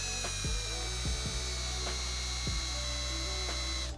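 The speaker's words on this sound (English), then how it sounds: "We're gonna use a countersink bit." A drill spins a countersink bit into an aluminum mounting channel, giving a steady close motor whir with several sharp bites and catches as the cutter chatters against the metal.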